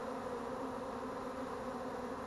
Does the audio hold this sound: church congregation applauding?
no